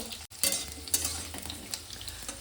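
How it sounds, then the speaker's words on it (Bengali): Potato pieces fry in a pan with a constant crackling sizzle, broken by repeated scraping stir strokes and light utensil knocks, heard close and alone. "মিনিট 2 আমি আলুটাকে একটু ভালো করে ভেজে নেবো।"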